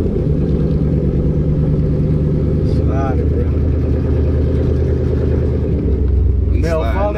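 A two-wheel-drive OBS pickup truck drives along with a steady low engine rumble heard from inside the cab, as people talk and shout over it throughout.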